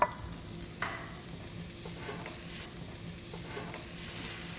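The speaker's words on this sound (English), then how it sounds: "I'm going to use a combination of olive oil and butter to cook my onions and my shallots" Onions and shallots cooking in olive oil and butter in a warm pan, giving a soft, steady sizzle with a few light stirring clicks, no voices.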